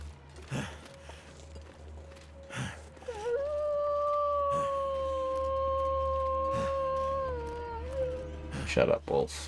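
A wolf in the survival video game The Long Dark gives one long, steady, mournful howl in the middle of the clip. A player speaks and makes short sounds before and after it.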